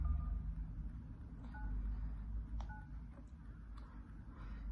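Telephone keypad tones redialing a number after a failed call to a veterinary clinic, a short run of paired beeps spaced unevenly over a low steady hum, with no talking.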